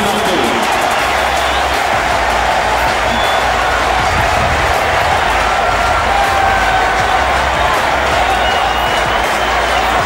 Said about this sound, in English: And this crowd that has been so strong in its support for Federer rises again.